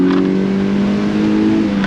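A 2013 Mazda Miata NC sports car engine holding a loud, steady drone at high revs, heard from inside the car, continuous and close with no talk.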